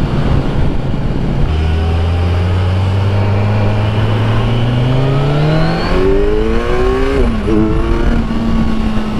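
Kawasaki motorcycle engine pulling hard in fourth gear near 4,000 RPM, a loud close rising drone that climbs steadily in pitch, with a brief gear-shift dip near the end before the tone settles lower.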